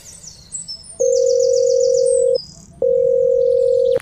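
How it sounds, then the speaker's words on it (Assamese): Telephone ringback tone heard while calling someone in an Assamese cartoon comedy: two long steady beeps separated by a short gap, loud and clear, with faint chirpy background sounds. "এই বেটাটাক ফোন কৰিব লাগিব"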